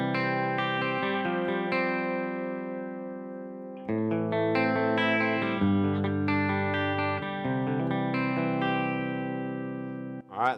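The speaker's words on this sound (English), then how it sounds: "Let's add in the chorus." An electric guitar played through a chorus effect from the Headrush artist pack rings out in sustained chords and melodic notes, shimmering and wide, alone without talk until a short final strum.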